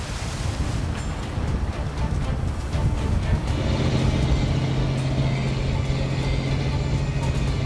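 Rough sea and strong wind roar steadily aboard a fishing boat off Dokdo, a dense broadband wash with a low engine hum coming in partway through.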